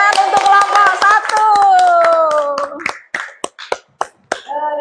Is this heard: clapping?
yes